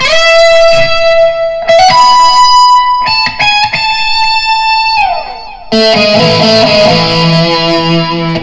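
A distorted electric guitar plays a loud riff of sustained bends and repeated notes, then slides down and crashes into a thick, heavy chord.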